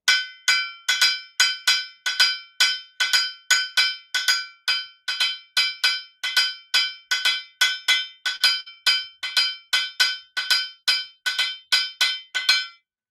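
A boat-shaped atoke bell plays the embellished akpese rhythm, with bright metallic strikes struck alone in a steady, repeating pattern of groups of hits for about thirteen seconds, each ring close and clear with a short decay.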